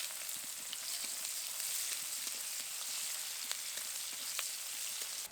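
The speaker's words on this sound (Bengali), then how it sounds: "এবার দেব পেঁয়াজ কুচি" Chopped onion sizzles in hot oil in a kadai tempered with dried red chilli and bay leaf, a soft, steady crackle with scattered pops throughout.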